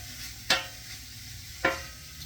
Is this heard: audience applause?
no